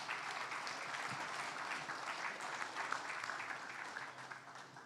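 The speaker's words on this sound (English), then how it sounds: "Let's give him a hand." Steady applause from a clinic audience, a dense even wash of many hands clapping at a distance, quiet and continuous throughout with no talking.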